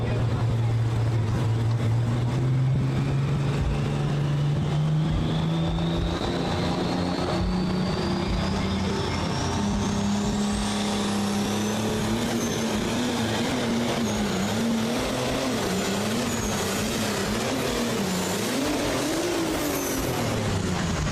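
A pulling truck roars down a Mack trailer pulling track at a county fair truck and tractor pull, its engine loud and sustained, climbing in pitch and straining through the full run.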